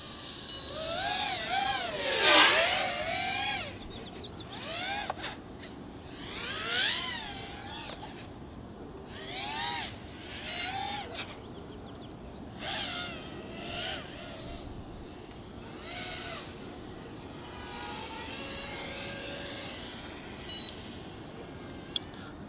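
An FPV racing drone on Racerstar SPROG-X 2205 motors with a 1500 mAh battery, its high motor whine rising and falling in sweeping bursts as it throttles up and down, passing near and away, with no talk.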